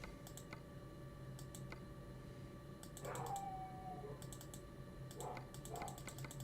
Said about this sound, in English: my dog's going ape shit right now.